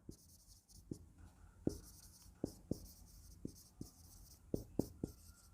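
Chalk or marker strikes a board during a maths lesson on sets, producing faint, irregular taps and short strokes with quiet pauses between them.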